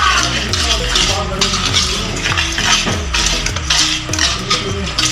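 Eggless banana muffin batter being mixed in a bowl, a loud steady run of scraping and clinking strokes from the utensil against the dish, with no talk over it.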